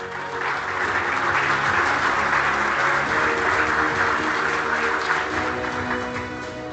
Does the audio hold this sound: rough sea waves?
no